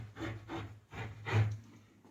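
A tracing wheel is rolled over cut trouser fabric to mark the stitching line. It makes a soft, close rasping rub in four or five short back-and-forth strokes.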